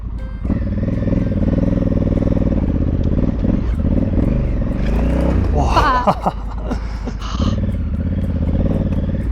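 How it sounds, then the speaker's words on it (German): A rally motorcycle in the Dakar sand dunes of Argentina revs hard as it tips onto its side, the engine climbing and wavering in pitch amid clattering, loud and close throughout. "Intuitiv versuche ich mehr Gas zu geben, um die Maschine aufzurichten."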